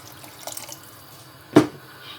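Water poured into a cooking pot for shrimp sinigang: a soft trickle early, then one brief, louder splash, all close by and fairly quiet with no talking.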